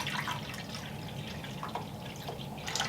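Water pours and drips into a tarantula's water dish that is already partly full, a soft, close, continuous trickle with light splashes and no talking.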